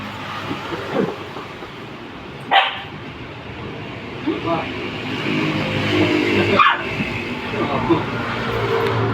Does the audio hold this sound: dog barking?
yes